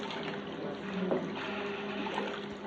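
Potatoes and carrots being stirred in a pot of water, a steady close sloshing and swirling wash with a faint scrape partway through, continuous for the whole moment with no talking.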